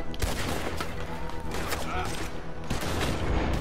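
Dense, rapid gunfire fills a Red Dead Redemption 2 shootout against enemies, with overlapping shots and loud cracks continuing throughout while someone talks over it.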